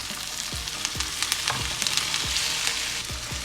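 Steak sizzles and fries loudly in a pan with oil, butter, garlic, thyme and rosemary, steady crackle and spatter with a few dull knocks of the pan or utensil through it.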